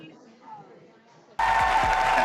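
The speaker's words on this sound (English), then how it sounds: "Round of applause for our street correspondents" Podcast audience bursting into applause for the street correspondents, a sudden loud wash of clapping and crowd noise cutting in after a quiet stretch and continuing to the end.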